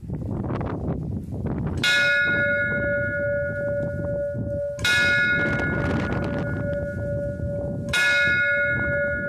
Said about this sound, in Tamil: உங்களுக்காக நான் இந்த மணி அடிக்கிறேன்